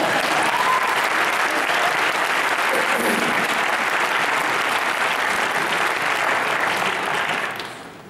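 A large audience applauds a speaker at a Wits University address, the dense, steady clapping filling the room for about seven seconds before fading away.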